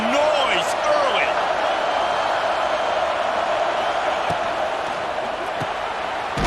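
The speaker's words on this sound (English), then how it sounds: "This crowd bringing the energy and noise early." Stadium crowd in College Football 26 on PS5 at an Alabama versus Auburn game, a dense roaring wash of crowd noise with whoops, steady and loud throughout.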